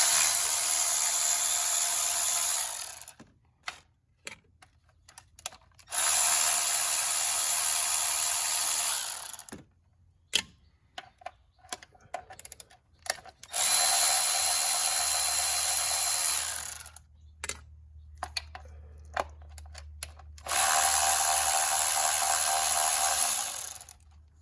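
A ratchet spins out 10 mm bolts on a Toyota Corolla during a spark plug job, sounding as four long bursts of rapid clicking with short pauses and scattered taps between them, close and loud, with no talk.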